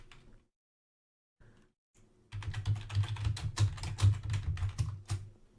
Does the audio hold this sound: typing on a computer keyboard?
yes